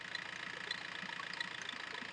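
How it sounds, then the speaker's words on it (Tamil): A used car sits idling at a low-budget used car dealership in Vellore, Katpadi, its engine giving a faint, steady, even hum with a light rhythmic pulse. "இன்ஜின் பாருங்க, இன்ஜின் பீட் பாருங்க"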